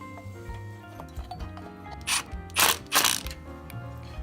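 A ratchet tightens the valve cover bolts on a 1967 Cub Cadet engine, giving a few quick clicking bursts near the middle over a low steady background hum, close up and moderately loud, with no talk.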